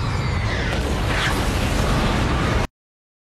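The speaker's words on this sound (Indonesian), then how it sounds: "tabrakan pesawat menyebabkan ledakan yang luar biasa" Explosion from a plane crash in a film, a loud dense roaring blast with heavy low rumble and crackling debris that holds for under three seconds, then cuts to silence.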